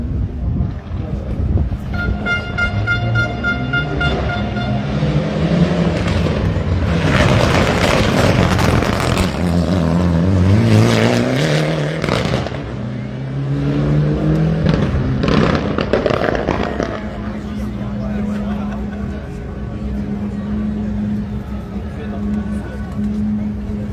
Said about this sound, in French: Vous entendez derrière la Porsche de Monsieur Flambard, 991